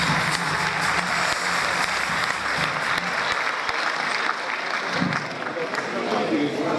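Crowd at a GROM party political convention in Kumanovo applauding loudly, a dense continuous roar of clapping with cheering voices that briefly dips near the end before swelling again.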